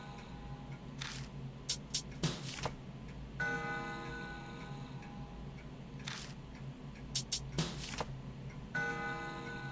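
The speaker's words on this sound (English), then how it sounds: "When I spin the long hand, the clock makes a noise." In the video game Spirit Hunter: NG, a clock ticks steadily while its long hand is spun, and several bright chiming dings ring out over the ticking, all without any voices.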